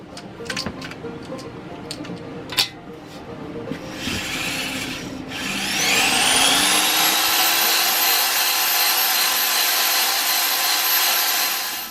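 A cylinder hone runs inside the bore of an Onan CCKA engine, giving a steady whirring grind after some earlier scraping and rubbing, loud and continuous near the end.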